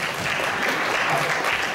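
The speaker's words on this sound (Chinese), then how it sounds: "来，掌声鼓励一下" Audience applause rings out at a traditional instrumental music competition, dense and sustained clapping filling the short moment with no voices over it.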